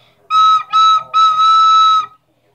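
A recorder sounds with a finger hole left partly uncovered, producing three bright, whistly tones in quick succession, the last held longest, close and loud.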